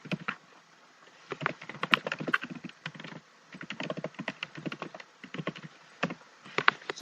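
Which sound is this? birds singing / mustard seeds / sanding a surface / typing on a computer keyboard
typing on a computer keyboard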